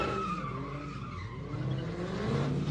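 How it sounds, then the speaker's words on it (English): A car losing control at an intersection, tires squealing and skidding across the road with engine noise, shifting pitched screeches and a rising roar toward the end. "The car suddenly lost control, veering across the road"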